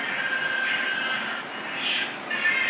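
An airplane passes overhead near an airport, its engine roar loud and steady with a slowly shifting whine as it flies by, with no talking.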